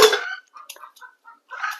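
Local village hens clucking close by during feeding, a loud burst at the start, then short scattered clucks and a final flurry of calls.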